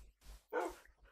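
Tamed dogs in Minecraft Hardcore mode give a short, fairly faint bark, with quieter yips around it against a near-silent background.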